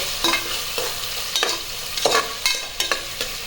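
Tomatoes sizzle softly in a pan while a spoon stirs them, giving about half a dozen scraping clinks against the metal over a low, steady frying hiss.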